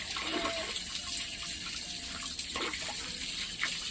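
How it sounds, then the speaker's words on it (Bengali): Fish pieces rinsed slowly by hand in water, a steady wash of running and splashing water with soft sloshing bursts, close and continuous, no voices. "মাছগুলো আমি আস্তে আস্তে করে ধুয়ে নেবো"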